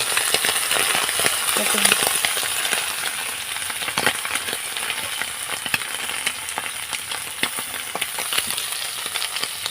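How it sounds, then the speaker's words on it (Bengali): Amudi fish frying in hot oil for a Bengali fish curry, a steady dense crackling sizzle with scattered sharp pops and spatters, close and continuous throughout. "তেলটা গরম হয়ে গেল আর মাছটা মাছটা দিচ্ছি আমাদের মাছ এটা মাছটা একটু ভাজা ভাজা করে নিচ্ছি"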